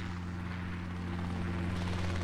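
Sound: helicopter in Dissonance video game

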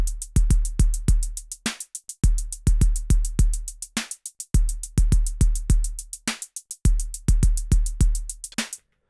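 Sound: Pocket Operator drum pattern, bridge-like section

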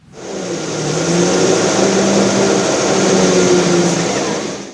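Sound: engine of an armoured reconnaissance patrol vehicle

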